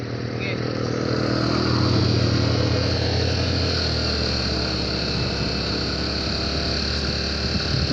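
A motorcycle labors up a steep road, its engine droning loud and continuous at a strained, steady pitch close by, with people talking over it.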